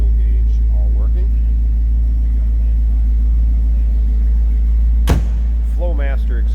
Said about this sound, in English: So nice sound again, nice little rumble to it out of those Flowmasters